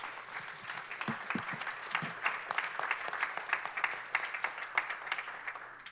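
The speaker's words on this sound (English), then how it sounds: "Everybody give these folks a tremendous round of applause as state champions." A modest crowd at a Roswell, Georgia celebration claps for a high school girls' state championship team, fairly quiet, with individual claps audible in an uneven patter throughout.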